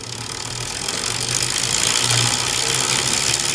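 A stock Shimano Dura-Ace Di2 drivetrain with Dura-Ace chain and Ultegra cassette running on a Specialized Tarmac S-Works SL6 bicycle gives a steady, close mechanical whir with a low tonal hum that swells slightly as it keeps spinning.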